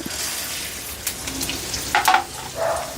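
Urad dal, coriander seeds and cumin frying in a spoonful of oil, giving a steady close sizzle with scattered crackles and a few louder spattering bursts near the end, no voices.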